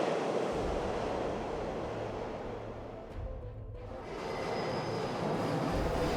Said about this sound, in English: a high-speed train departs on schedule along the Beijing-Jiangjiakou high-speed railway